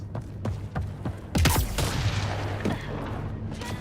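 Gunfire in Mass Effect Andromeda: a rapid fusillade of sharp shots with a heavy burst in the middle, close and loud amid ongoing combat noise.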